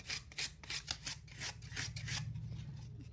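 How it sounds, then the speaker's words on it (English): Coarse sandpaper rubbed by hand over an old wooden box, a run of quick rasping strokes in a steady rhythm, close and fairly quiet over a low background hum. "So I'm just using just some coarse sandpaper."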